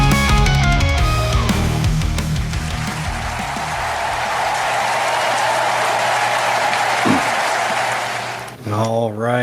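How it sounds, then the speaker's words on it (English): Loud, continuous applause for teams reaching the Super Bowl, a broad steady wash of clapping that fills nearly the whole stretch, opening over a musical passage and ending as a voice starts to speak. "that's a sound of applause for the teams finally making it to the Super Bowl"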